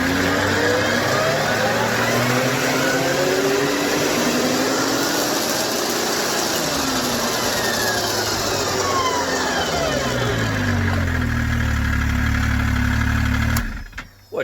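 Sidewinder engine with stock exhaust running steadily and fairly loud, a continuous idle-to-rev drone with shifting tones, cutting off abruptly near the end.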